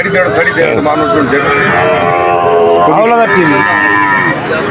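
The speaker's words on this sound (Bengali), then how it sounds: "এই হাট গরুর হাট, খুবই সুন্দর গরু এখানে দেখা যায়।" Several cattle moo loudly and repeatedly at a livestock market in Bangladesh, long drawn-out calls overlapping one another amid a busy crowd background.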